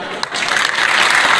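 A crowd claps briefly at a school Parents Worship Day ceremony, the applause building quickly into a dense, bright patter.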